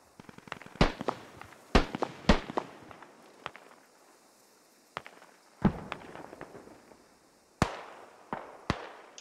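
Mortar explosions in the video game Squad boom in a sharp irregular series of loud blasts with quiet gaps between them, some nearer and some farther off.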